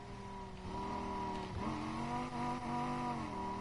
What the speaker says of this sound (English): As you can see, this car is pretty quick.